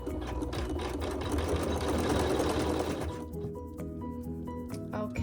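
A sewing machine runs quilting stitches in contrasting thread, humming quickly and steadily for about three seconds before easing into a quieter, lighter stitching rhythm.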